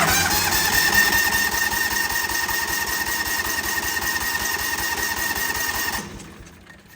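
A Kawasaki 620 V-twin engine in a John Deere Gator 6x4 chugs with a steady, rapid rhythmic pulse for about six seconds, then cuts out abruptly, leaving quiet.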